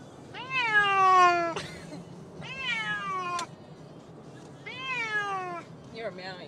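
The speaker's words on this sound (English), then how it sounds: "You're meowing straight into the bone." A cat meows loudly several times, drawn-out wailing cries spaced a second or two apart, close by with faint background noise.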